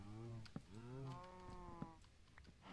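Blocky Minecraft cows mooing in a farm pen, several long low bellowing moos overlapping one after another at close range, with brief clicks in between and no talking.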